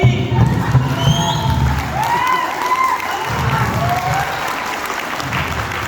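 Loud applause and cheering rise from an audience at a mega seminar in a hotel residency in Pathankot, dense clapping mixed with whoops and shouts, with voices calling out over the crowd.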